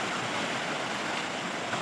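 Strong floodwater current flowing past a village beside a broken embankment, a steady broadband rush of moving water, faint and distant, with no voices.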